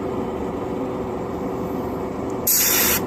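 A Badger Renegade Krome airbrush sprays a fine hairline pattern onto paper at close range, giving a steady, close hiss that swells briefly brighter near the end.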